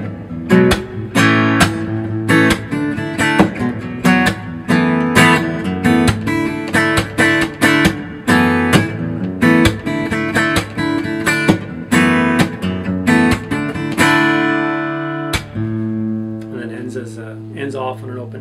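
Acoustic guitar strums the pre-chorus of a song, live acoustic style, in steady rhythmic chords that ring out loud and close, with no voices, ending on a held open chord.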